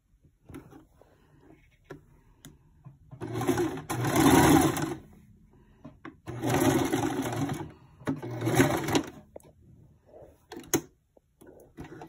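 A sewing machine stitches a 3D coin purse in three short bursts of whirring rattle, each lasting one to two seconds and separated by quiet pauses with small handling clicks.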